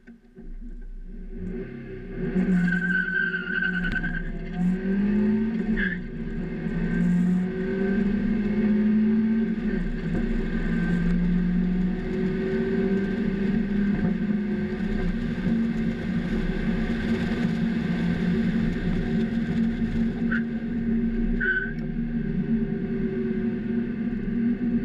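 Mazda Miata driving a lap, its engine droning steadily and loud throughout with brief higher squeals of the tires skidding mid-run, close and continuous with no talk.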